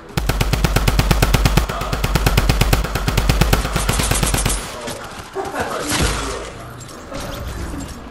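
Rapid automatic gunfire from Fortnite weapons, loud, fast bursts of shots for about four seconds, followed by scattered impacts and softer in-game noise.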